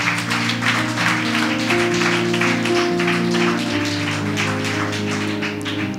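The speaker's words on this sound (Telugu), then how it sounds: "ఇంతేనా చప్పట్లు?" Congregation applause in a church fills the room with a dense, steady clatter of many hands, close and loud, while sustained keyboard or organ chords hold underneath throughout.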